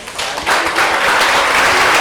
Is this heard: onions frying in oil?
no